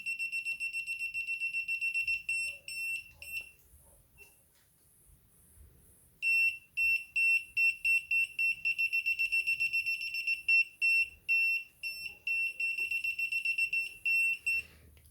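A GD166B multimeter's voltage detector beeps in fast, regular high-pitched pulses, pausing briefly and then resuming in a rapid, insistent series; nearby and clear, with no talking.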